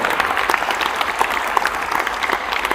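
Warm, steady audience applause during a motivational talk at OP Jindal University, a dense crowd of clapping hands heard throughout without talk.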